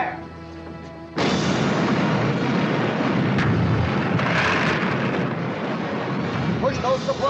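A 1955 period pirate-adventure battle scene with cannons firing, a sudden loud blast erupting after a quiet opening and rolling into sustained heavy booming and crashing, with shouting voices faintly under the din.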